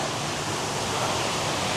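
Rushing water from a full, flowing stream on a rocky forest trail near a seven-tier waterfall in Saraburi, Thailand, a steady dense wash heard close and loud throughout.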